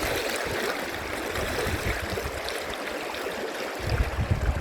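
Kern River water streaming and trickling steadily around a person wading across at low flow, a continuous close rushing wash with a few louder splashes near the end.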